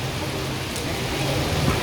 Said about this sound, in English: It's a rainy day here